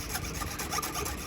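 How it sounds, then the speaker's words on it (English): A short, close scraping rub as the small nub inside a guitar locking tuner is sanded during a solo guitar kit build, a rapid back-and-forth rasp at steady loudness. "a polish, or kind of like a sanding to the little nub that's inside the locking tuner that presses down on the actual string"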